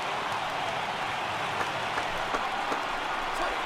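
Baseball stadium crowd in MLB The Show 18 rising to its feet during a Cleveland at Boston game, a dense, steady roar of cheering and clapping at moderate distance, holding level throughout.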